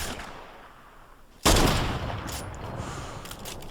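A burst of gunfire in the Fortnite video game breaks sharply out of quiet game ambience, loud and close, then trails off into a sustained rumbling echo.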